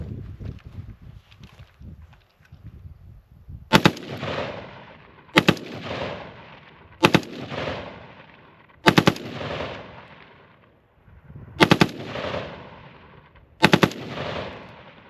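A GAU-5 carbine fitted with an Atrius Super Selektor fires six sharp bursts outdoors at close range, some short two-round strings and some longer strings, separated by pauses of a second or two, with no talking.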